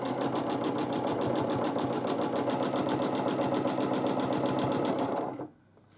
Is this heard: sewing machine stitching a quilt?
yes